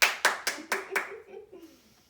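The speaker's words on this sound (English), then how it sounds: "give me a round of applause" A few people at a home slideshow clap about five distinct times, each clap sharp and close at a steady pace, then the claps thin out and fade as a voice lingers softly.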